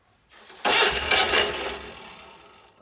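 A 1955 Citroën 2CV AZ with fuel poured directly into the carburettor cranks and briefly catches, a sudden loud burst of small-engine noise that fades over a couple of seconds after a short starter whir.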